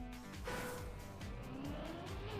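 A car drifts in the Trackmania racing game, with an engine tone that rises and falls and a brief tire squeal, heard at moderate level with no voice over it.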